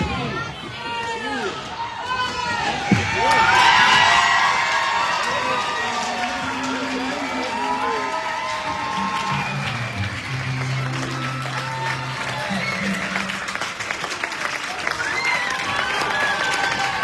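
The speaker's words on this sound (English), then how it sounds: "really unclassy Hopkins crowd cheering." The Hopkins crowd at a squirt B1 district tournament championship hockey game cheers and shouts loudly and continuously, with high children's voices and whoops filling the rink throughout.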